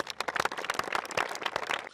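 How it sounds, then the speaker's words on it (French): Scattered applause from a small group, a steady patter of claps lasting a couple of seconds without voices. "On peut applaudir pour nous"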